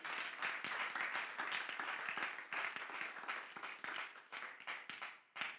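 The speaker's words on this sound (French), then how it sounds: "Can you clap for the Lord?" A church congregation applauding for the Lord, dense sustained clapping from many hands filling the room at steady loudness, tapering slightly toward the end.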